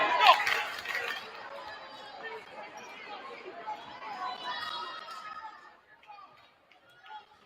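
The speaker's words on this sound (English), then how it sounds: "Now we'll get that crowd sound down to we'll call it manageable level." Spectator chatter and cheering fill a high school basketball gym, loud at the start and then easing into a steady murmur that fades low by the end.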